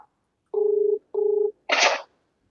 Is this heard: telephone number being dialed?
yes